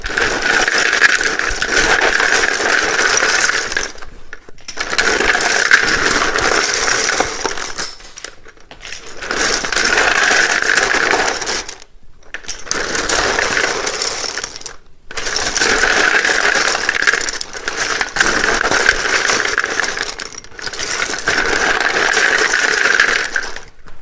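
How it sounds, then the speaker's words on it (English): Loud, dense riffling of tarot cards repeated in several long bursts separated by brief pauses, close up with no voices. "it can be a little bit loud when I shuffle these."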